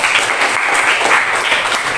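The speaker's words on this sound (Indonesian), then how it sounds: "Kasih tepuk tangan dulu untuk teman kita Ferdi." Loud, continuous applause from a school class for a fellow student, many hands clapping together in a close, even wash of sound with no talking.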